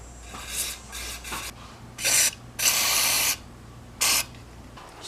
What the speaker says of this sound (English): Mass airflow sensor cleaner.